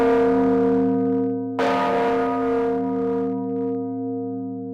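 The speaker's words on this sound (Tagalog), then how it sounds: "Gusto ko marinig yung tunog ng kampana eh." An antique church bell in Iloilo, rung with the budaho technique, rings out with a humming tone, then a strong clang about a second and a half in, its deep overtones sustaining and slowly decaying.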